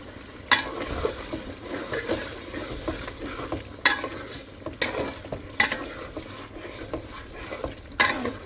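Meat sautéing in a pan, with a steady sizzle under repeated sharp scrapes and clinks of a spoon stirring against the metal, close and fairly loud.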